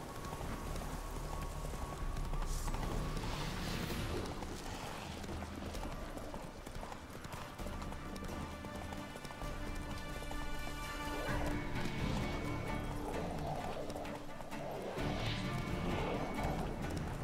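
Steady clip-clopping horse hooves keep up a continuous trotting rhythm, mixed with a busy ambient soundscape and occasional crashing noises, in the video game The Witcher 3: Wild Hunt at night.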